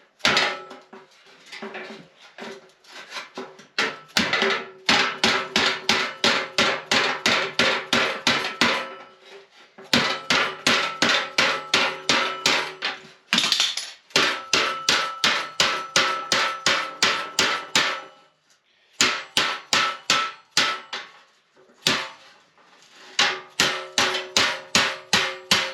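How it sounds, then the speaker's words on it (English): A dead blow hammer pounds a sheet metal edge for a custom Ford Econoline van air dam, delivering loud rapid rhythmic blows in bursts of many strikes separated by short pauses. "I'm going to take this dead blow hammer, and I'm going to start rolling the edge of this down flat and hammering it out flat"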